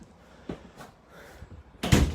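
Inside a 2020 five-slide fifth wheel RV, a half bath door is handled with a few light knocks and a soft latch click, ending in a louder thud as it swings or bumps open nearby.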